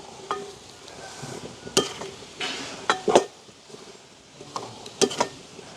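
Date pickle being stirred in a pot, with repeated scraping and clinking strokes of a spoon against the pan, some loud and sharp, others softer, spaced irregularly over a low background hiss.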